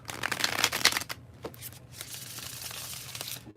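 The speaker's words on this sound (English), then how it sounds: "There it is, and there it was, the bridge shuffle." Tarot card deck being bridge shuffled, close and clear, with a long crisp riffling flutter, a brief pause, then a second softer cascade of cards settling.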